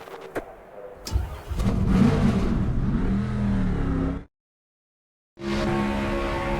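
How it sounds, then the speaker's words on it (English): Race car engines in NASCAR 25 fire up and rev loudly, a sustained mid-pitched roar building after a couple of sharp starts, cutting off briefly before another steady engine drone resumes. "Drivers, start your engines!"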